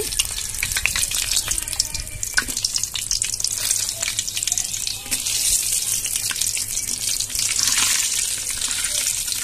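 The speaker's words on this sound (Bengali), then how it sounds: "গোটা শুকনো লঙ্কা দিয়ে দিচ্ছি" Whole dried red chillies dropped into hot oil while making olive pickle, a loud continuous crackling sizzle that hisses steadily throughout, close up with no talk.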